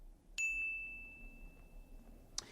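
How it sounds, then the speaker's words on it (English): A single bright notification bell ding rings out clearly with a long sustained tone that slowly fades, followed by a short second chime near the end, with no talking. "click the notification bell so that way you never miss out"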